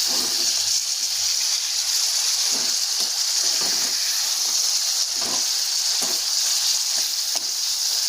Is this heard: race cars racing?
no